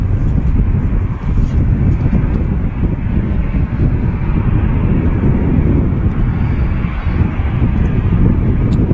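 Virgin Atlantic Airbus A330 jet beginning its takeoff roll at Manchester Airport, heard as a loud, sustained broadband engine roar mixed with wind buffeting on the microphone, no talking.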